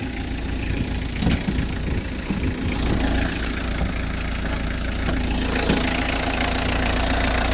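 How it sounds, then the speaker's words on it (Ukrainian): A Fiat Scudo van's diesel engine, with 114,000 km, idles steadily at close range, with a continuous rough, knocking rumble and no talking. "Чиста робота двигуна."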